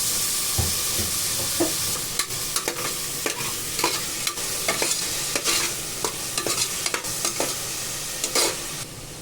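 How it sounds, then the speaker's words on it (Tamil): Tomatoes and onions sautéing in a pan for chicken curry, with a continuous sizzle and frequent rhythmic spatula scrapes and taps against the pan, close and fairly loud, with no talking. "நம்ம அடுத்து தக்காளி வெங்காயம் நல்லா வதங்கிடுச்சு."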